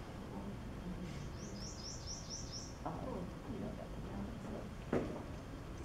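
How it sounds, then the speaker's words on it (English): A prothonotary warbler sings a quick series of five bright, repeated sweet notes, fairly faint against a noisy background, followed by scattered softer sounds and a brief knock. "The prothonotary warbler, also once upon a time called the golden swamp warbler."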